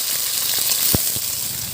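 Potatoes frying in hot mustard oil in a wok give a steady, close broadband sizzle with a single sharp clack partway through, no voices.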